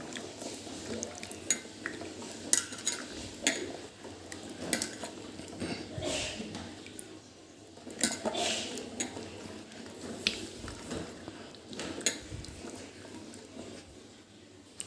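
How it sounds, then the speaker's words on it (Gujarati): Ivy gourds are washed and rubbed by hand in a bowl of water, giving repeated sloshing, squishing and light clinks against the vessel in an irregular rhythm up close, with no speech. "એને આપણે સારી રીતે ધોઈ કાઢીશું"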